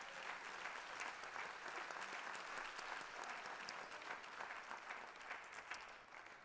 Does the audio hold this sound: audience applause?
yes